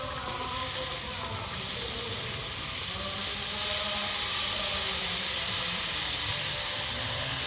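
Pumpkin flower stalks sizzle steadily in a hot frying pan with potato and eggplant, a continuous close hiss of frying oil that stays even throughout with no talking.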